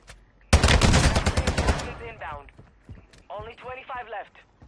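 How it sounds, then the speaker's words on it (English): Rapid automatic gunfire in Call of Duty Warzone, a loud close burst of many quick shots lasting over a second, followed by players talking over quieter game sounds. "He's literally in front of your building, shooting at me."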